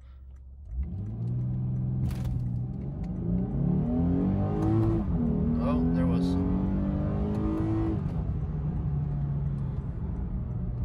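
A 2017 Lexus IS 350 engine revs up loudly during a launch control start, climbing and holding a strained high pitch before easing off, heard from inside the car while someone speaks briefly.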